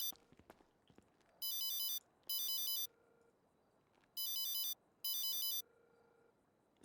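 A phone ringtone sounds as two pairs of bright, buzzy electronic bursts with short pauses between them, loud and close against a quiet room with a few soft knocks.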